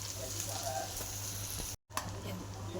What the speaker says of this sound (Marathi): आपला कांदा भाजूस भाजतोय त्यामध्ये आपलं खोबरं पण भाजून निघाल